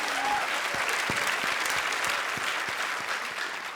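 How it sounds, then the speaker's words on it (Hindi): A comedy show's studio audience claps in a steady, full burst with a few crisp individual claps standing out, carrying through evenly and easing off only slightly at the close. "एक बार तालियां।"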